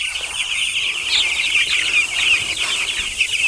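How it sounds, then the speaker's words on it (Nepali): A flock of 11-day-old broiler chickens clucking and chattering steadily throughout, with a continuous high busy murmur of many birds close by. "यसरी कुखुराहरू झुम्म भएर बसिरहेका हुन्छन्।"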